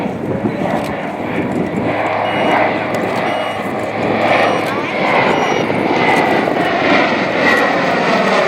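A PBY-5A Catalina flying boat flies a circuit at the 2014 Shoreham airshow, its loud, steady propeller-engine drone filling the air and swelling gently as it passes.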